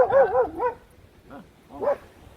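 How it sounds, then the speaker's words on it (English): A dog barks at passersby outside, giving a burst of several quick barks followed by a few softer, spaced yips, loud and close with no talk over them. "the dog has to bark"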